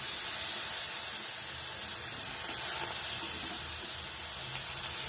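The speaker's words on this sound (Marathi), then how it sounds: "आता आपण भाजी टाकून घेऊ याच्यात।" Loud, steady hiss and sizzle as vegetables (green beans) hit a hot pan and cook, a broad, even frying noise lasting throughout with no talking.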